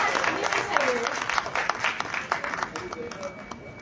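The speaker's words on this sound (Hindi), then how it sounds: "ताली भी चाहिए।" An audience claps to welcome a TV news anchor at a World Press Freedom Day event, a lively patter of applause heard behind an energetic host's voice talking over it.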